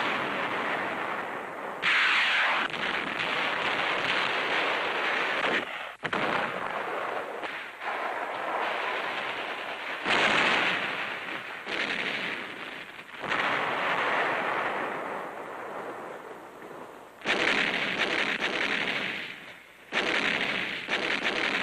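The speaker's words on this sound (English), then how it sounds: "Beating back Japanese delaying actions, the troops blast their way through." A 1945 battle fought against Japanese delaying actions on the road to Manila, with heavy artillery and gunfire pounding almost without pause. Long, loud roaring blasts overlap and recur in waves.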